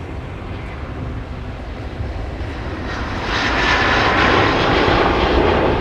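An airliner's jet engines spool up for departure at snowy MSP airport in winter, a loud broad roar with wind buffeting that swells stronger partway through and holds.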